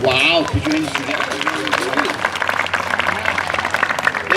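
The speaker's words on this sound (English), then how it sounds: "Wow, put your hands together." An audience applauds at a summer library concert by an Afro-Brazilian ensemble, a steady wash of clapping and cheering that runs throughout, with a voice speaking at the start.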